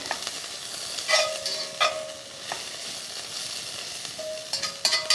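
Cabbage being stirred with onions and garlic in a pan, a soft ongoing sizzle broken by several scraping, clinking utensil strokes against the pan at irregular intervals.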